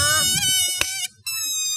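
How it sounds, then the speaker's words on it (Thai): A balloon is rubbed or squeaked as a foley stand-in for an insect, giving a continuous whining buzz with wavering pitch, broken by a brief gap just before the end. "ลูกโป่งอันนี้อ่ะ ลูกโป่งเป็นเสียงแมลงครับ"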